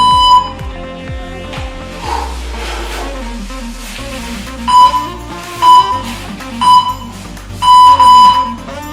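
An exercise interval timer gives a series of short electronic beeps, four or five evenly spaced tones near the end, loud and close over faint background music.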